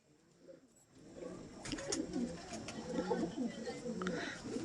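Large Kaldom pigeons with banded tails coo in low, repeated throaty bursts close by, with people talking over and around the calls.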